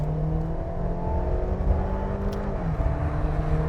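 A 2021 Mercedes-Benz GLB 250 4Matic accelerating on the road, heard from inside as a steady, moderately loud engine drone whose tones rise and shift as the throttle is pressed and eased, with no talking.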